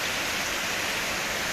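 Heavy rain falling in Pune district, a steady dense hiss of rainfall with no distinct drops or voices, even and continuous.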